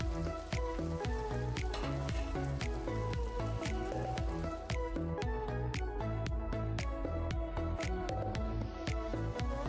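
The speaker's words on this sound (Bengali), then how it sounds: "আমাদের মশলাটা ভাজা হয়ে গেছে, এবার এতে আমরা ভেজে রাখা সবজিগুলো একে একে দিয়ে দেবো।" Already-fried vegetables go into a pan of sizzling spices, producing a busy sizzle dotted with quick, repeated popping and spattering bursts at a fairly even pace, close by and with no talking.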